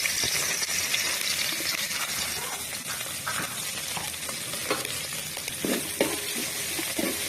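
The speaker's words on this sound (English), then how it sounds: "So we're going to throw that onion in there." Chopped onion dropped into a very hot pan for making kunde, giving a steady, loud broadband sizzle throughout with small crackles and pops, close up and without talk.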